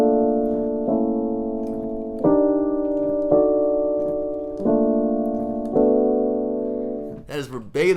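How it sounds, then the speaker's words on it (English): Sustained piano chords change every second or so in a slow progression, loud and close, with a brief voice at the very end. "That is verbatim what I played on the piano on the record itself."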